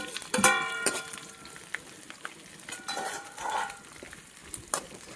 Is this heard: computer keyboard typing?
no